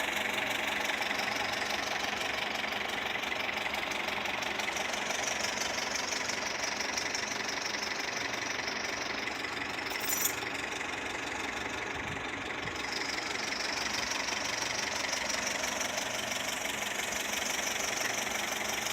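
A 2013 Toyota Etios with a burning smell and suspected exhaust fault idles steadily, a constant mid-pitched engine drone with faint ticking, heard up close without speech.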